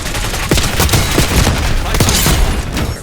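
Rapid bursts of gunfire in Black Ops 6 crackle loudly and continuously, with sharp repeated shots and booming impacts layered through a dense, busy battlefield mix.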